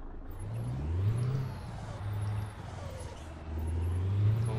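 A Scania 143H truck drives in Euro Truck Simulator 2, its engine droning steadily with rising and falling revs across the stretch, with no voices over it.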